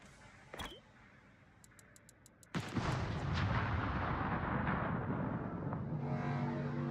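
Naval gunfire in the World of Warships game: a sharp distant shot, then a heavy booming salvo that rolls into a long rumbling decay, with faint clicking ticks before it.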